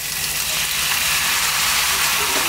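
Bánh xèo batter fries in a pan with a loud, dense, continuous sizzling hiss that stays even from start to finish.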